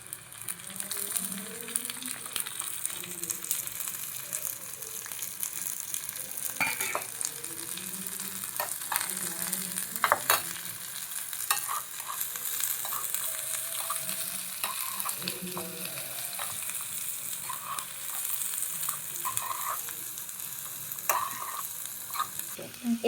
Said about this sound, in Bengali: পেঁয়াজ কুচিটাকে আমরা হালকা মতন ব্রাউন করে নেব। তারপর আমরা সবগুলো সবজি দিয়ে দেব।